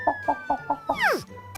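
A hen clucks in a short rhythmic series of five quick notes, then gives one louder rising-falling squawk, close and clear.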